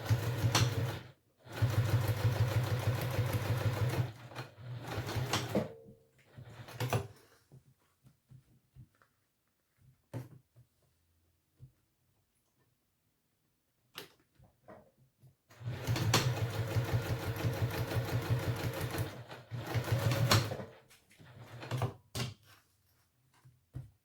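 Sewing machine stitching a messenger bag at a longer stitch length, heard close in two loud bursts of steady, buzzing motor-driven stitching separated by quiet pauses with small clicks and handling noises.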